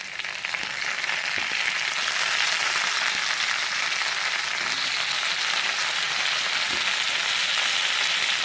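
Prawns sizzle and fry in a pan of butter and browned garlic, a loud, steady crackling hiss that fills the whole stretch without pause.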